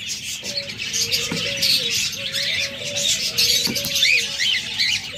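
Lovebirds in a bird seller's cage chirping continuously in dense, overlapping high-pitched calls, with a few lower coo-like tones and occasional sharp clicks.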